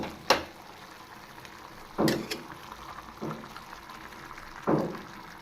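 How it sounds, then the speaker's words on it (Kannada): Water poured into ground masala in a pan for chicken and egg sambar, heard as a few short, quiet splashing bursts spaced a second or two apart over a faint, low background. "ಈಗ ಇದಕ್ಕೆ ನೀರು ಸೇರಿಸ್ತಾ ಇದ್ದೀನಿ"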